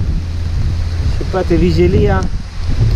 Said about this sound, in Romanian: după cum bate vântul